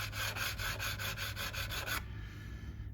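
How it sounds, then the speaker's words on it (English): File swiping across a guitar nut slot during a Harley Benton Standard Series setup, several quick rhythmic rasping strokes, close and fairly quiet, stopping abruptly partway through with a faint hiss afterward. "as I go across 12 with the first sort of few swipes of the file"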